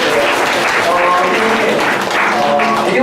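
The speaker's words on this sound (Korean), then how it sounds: "박수 한번 해주시고요" Congregation applause during a Korean church service, a dense steady burst of many hands clapping filling the room, with a voice faintly underneath.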